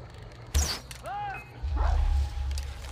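A dog barks in Far Cry 3 during a gunfight, with a sharp close bark followed by whining yelps, over a low rumbling background.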